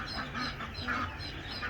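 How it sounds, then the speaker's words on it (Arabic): A small flock of farm ducks, a mix of Egyptian, French meat and flying breeds, quacks and honks in repeated bursts, fairly close and alone without talk. "طبعا بط"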